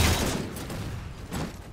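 Gunfire in the video game Halo 4 during a capture-the-flag custom match on Simplex: a short, dense burst of distant shots with a second burst near the end, no talk.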